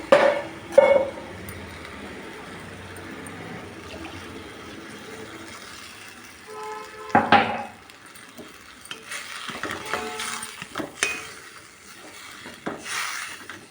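Water is poured into a cooking pot for coconut rice, a sloshing, splashing pour with clinks of the vessel and some kitchen clatter, moderately close, with no one speaking.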